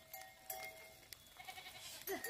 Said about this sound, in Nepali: ल हेरौँ त यहाँ कति धेरै बाख्राहरू छन्।